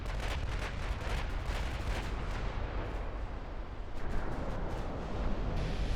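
Torpedo hits on a warship in a naval combat game: a steady, dense wash of booming explosions and rumbling impacts fills the whole stretch, loud and continuous with no pauses.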